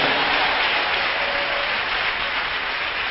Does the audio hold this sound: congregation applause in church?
yes